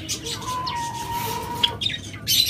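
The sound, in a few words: Java sparrow calls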